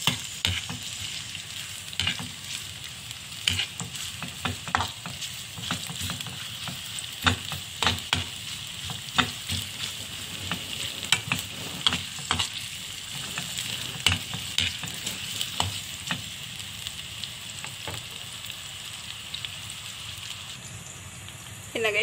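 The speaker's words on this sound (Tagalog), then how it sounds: "haluin natin. Ayan. Hanggang maluto ang sibuyas." Onions stirred and frying in a pan, a steady sizzle broken by repeated scraping clicks of a utensil against the metal, moderately close and continuous with no talking.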